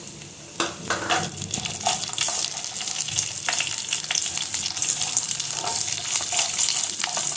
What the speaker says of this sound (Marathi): आता आपल्याला याच्यामध्ये हे जे काजू बदाम कट केलेले आहेत ते टाकायचे आहेत आणि थोडे मनुकेही त्यात टाकायचे आहेत आणि ह्याला परतून घ्यायचं आहे